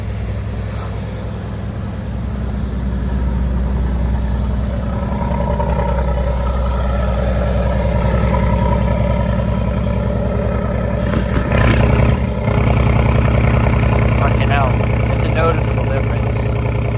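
An Aston Martin Vantage with the M177 engine idles with its exhaust valves closed, giving a steady low rumble close by that rises briefly in a small blip near the end.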